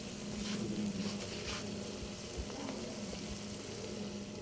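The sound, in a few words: bopis sizzling and frying in oil while stirred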